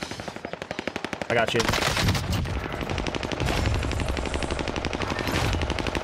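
Rapid FARA 83 rifle fire in Warzone crackles in quick bursts, close and loud, nearly continuous across the clip, with a player speaking briefly over it.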